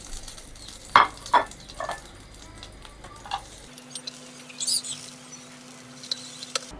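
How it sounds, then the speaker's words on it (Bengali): Dried fish dry-roasting in a pan for a green chilli mash, soft scraping stirs and faint crackle, several sharper scrapes early on, then a quieter low hum with light sizzling, close and modest in level. "এখন শুটকিগুলো টেলে নিব"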